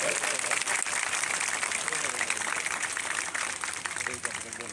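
Students at a government high school in Bajrawar clap for visiting MLA Dr. Ishaq Kumar. The steady group applause is close and lively and fades slightly at the end, with a voice talking over it.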